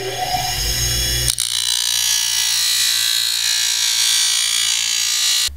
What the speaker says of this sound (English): For that, I'll just use my bench grinder and shave a little off the top where it says top.